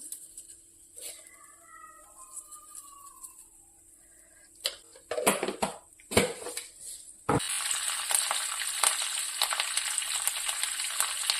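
Mustard seeds and cumin hit hot oil in a pan, setting off a loud, steady crackling sizzle that follows a few sharp clatters and keeps going to the end.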